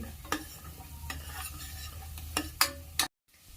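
Coriander seeds, sesame seeds and cumin fry in hot oil for a stuffed brinjal curry, with a soft steady sizzle broken by several sharp spoon scrapes against the pan before a sudden cut to silence.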